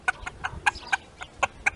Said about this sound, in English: Roosters also make food calls, along with a little dance called a tidbitting display, to let their hens know when they've found a bit of food.